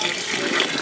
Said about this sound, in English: continually added water to the mixture of sawdust and perlite until the consistency was just right for the eggs